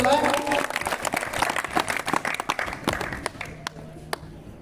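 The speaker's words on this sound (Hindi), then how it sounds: "एक बार जोरदार ताली से इस बच्चे को पोडियम पर बुलाएं" Loud applause and clapping from a crowd at a children's Independence Day event welcome a child to the podium, a dense burst that thins out into scattered claps toward the end.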